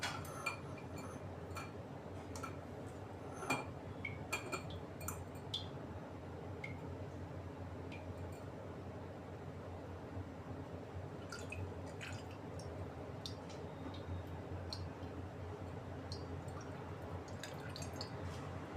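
Homemade ghee made from milk cream being strained into a glass jar, with quiet drips and soft trickles, occasional light clinks of utensil on glass, close and faint, with no talk.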